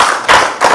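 Applause from an audience at the African Movie Academy Awards, a short burst of close, dense clapping that swells twice in under a second.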